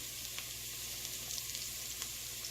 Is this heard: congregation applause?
no